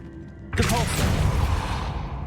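A Depulso spell goes off in Hogwarts Legacy with a sudden loud burst of whooshing force and a rumbling thud, trailing into a sustained roaring wash that slowly fades.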